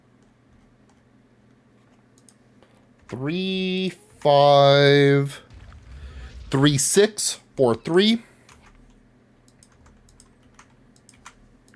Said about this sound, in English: Typing in the last of the codes.